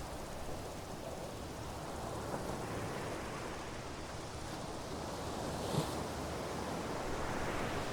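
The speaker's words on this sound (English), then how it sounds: "the faint murmur of waves in the distance" Sea waves wash steadily in the distance along a seaside shore, a soft, continuous broadband roar with gentle swells and no other sounds on top.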